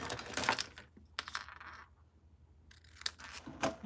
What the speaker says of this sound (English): So we're going to trim this off a little bit so it'll fit in here.